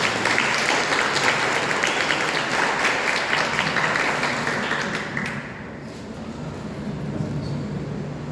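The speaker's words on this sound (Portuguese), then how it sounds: "Vamos receber o Padre Marcos André com uma salva de palmas" A church congregation claps to welcome a priest, a dense, steady round of applause that fills most of the stretch before thinning and fading out toward the end.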